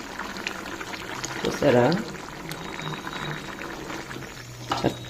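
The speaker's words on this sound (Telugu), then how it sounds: "చక్కగా బాయిల్ అవుతుందండి పులుసు." Sweet potato soup boiling in a pot: soft bubbling and gurgling liquid up close, with a couple of louder bursts, under a woman's speech.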